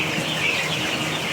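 Chickens raised from hatchery chicks cluck on a poultry farm under a loud, constant wash of hiss and farm noise, the birds' calls blurred and hard to pick out.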